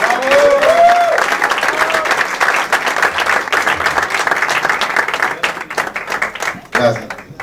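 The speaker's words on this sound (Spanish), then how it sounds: "para un aplauso fuerte para Alicia" Audience applause at the opening of a restaurant, steady dense clapping from a close crowd for several seconds, with voices and a brief whistle or cheer mixed in before it thins toward the end.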